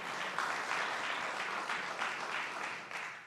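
Audience applause at a public event where the governor speaks about state funding for a city's Department of Public Works; a steady wash of clapping from a crowd lasting a few seconds at moderate level, no voices standing out.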